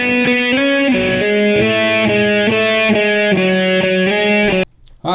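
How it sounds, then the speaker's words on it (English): Layered electric guitar tracks with reverb, recorded and mixed: loud, sustained distorted chords changing in a steady rhythm, ending with an abrupt cutoff and a brief decaying tail. "you can hear that the reverb added a lot to that"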